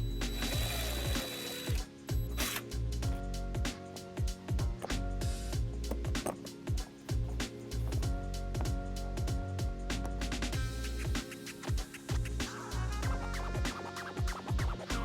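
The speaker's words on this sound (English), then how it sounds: "So we're gonna mount our bracket right here using these screws." A power driver whirs and grinds in repeated bursts, driving screws to mount a trailer wiring bracket on a 2005 Hyundai Tucson, loud and close, with brief pauses and scraping between runs.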